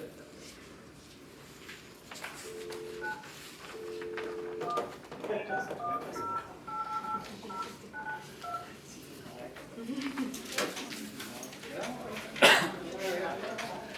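Touch-tone telephone dialing during a borough council caucus meeting, a string of short steady beeps of differing pitch, some paired in quick succession, heard over quiet room murmur and shuffling with brief voices nearby.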